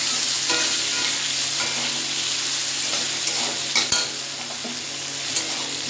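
Whole garlic cloves and onion fry in a pan with a steady, close sizzle, broken by a few sharp scrapes and knocks of stirring.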